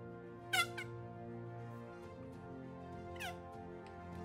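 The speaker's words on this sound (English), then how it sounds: "it squeaks a little bit when you rotate the ring" An Andobil MagSafe phone ring squeaks in two short, thin chirps as it is rotated, quiet and close against a soft background hum.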